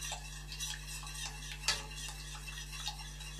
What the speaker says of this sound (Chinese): 现在重要的就是不停的搅拌，千万不能让这个鸡蛋结成块。